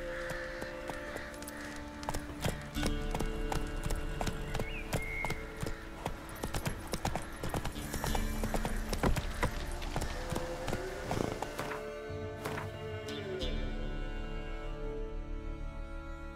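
Hooves of the horse Roach in The Witcher 3 clip-clop at a trot on the ground. The footfalls are steady and rhythmic, mixed with game ambience and music, and the hooves fade near the end.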